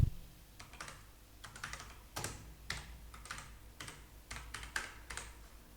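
Typing on a computer keyboard during an online trading class, with bursts of crisp key clicks separated by short pauses, close and quiet, without speech.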